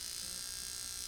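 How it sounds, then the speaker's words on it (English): A small motor in a Coolware personal cooling system whose speed switch is faulty, giving a steady, continuous electric whir with a bright high buzz that holds evenly throughout. "Is this a normal noise? Just the turning of the motor"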